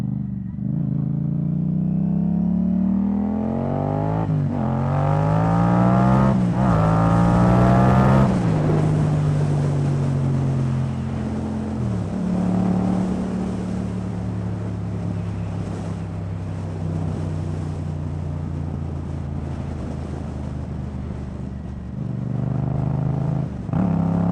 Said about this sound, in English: So you guys can hear all the crackling and noise I'm getting. That's because it needs a tune.